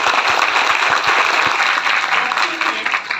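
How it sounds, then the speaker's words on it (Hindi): Dr. Lim's audience at a business presentation breaks into loud, dense applause, a sustained roar of many hands with a few distinct claps standing out near the start, with speech-like murmur beneath. "एक ताली बजाओ डॉक्टर"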